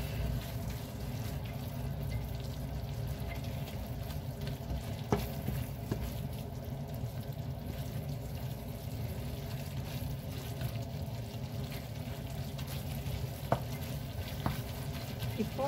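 Okra kara kuzhambu gravy sautés in a pan in a home kitchen, with a steady, moderate sizzle and frying crackle running throughout, broken by a few small clinks and stirring sounds.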